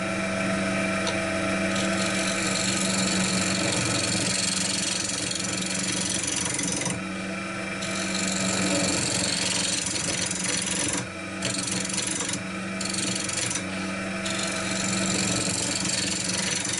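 A wood lathe spins a wooden bowl blank while a turning tool is guided lightly along its face, making a continuous raspy scraping hiss over the machine's steady hum, with brief pauses where the cutting stops.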